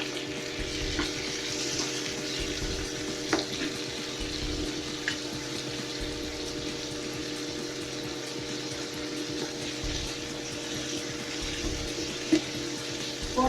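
Tomato frying in a pan while preparing a homemade wheat pizza, a steady sizzle and crackle lasting throughout with no one talking.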